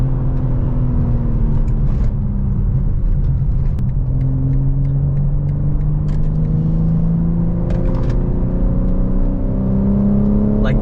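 A BMW G80 with an aftermarket exhaust mid-pipe revs up continuously, its engine drone rising steadily in pitch. The exhaust is loud and close, heard from inside the cabin as a dense, rumbling roar with no talk over it.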